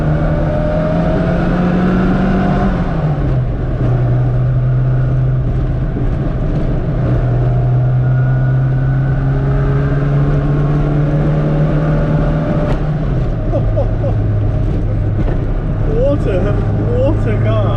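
A supercharged 998cc Mini pulls hard in second gear, its engine drone loud and close with a steady rising pitch and a brief gear-like step, while wind rushes and a voice speaks intermittently.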